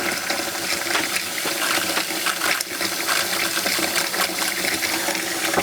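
Antifreeze gushes from the sink faucet of a 2024 Winnebago Revel camper van, a loud, steady rush of running liquid splashing into the basin, close and continuous with no talk.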